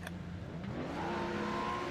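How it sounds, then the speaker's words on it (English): Race car engines rev on the starting grid of a GT3 racing video game, a bright rising engine tone holding steady and fairly loud, with no talk over it. "Revs are up."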